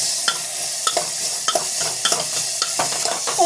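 Sautéing in a pan with salt and chili powder: a sizzling bed under repeated sharp scrapes and stirs of a spatula against the pan, close and fairly loud, in an irregular rhythm.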